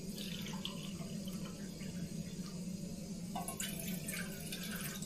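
Water runs steadily into a pot on an Alpkit Koro camping stove indoors in a small Scottish bothy, a continuous low gush with faint splashy detail, no voices.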